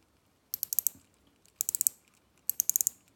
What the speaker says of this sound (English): Now it gets sticky, some more pressure, and now it gets easy again. So the bezel action is not as smooth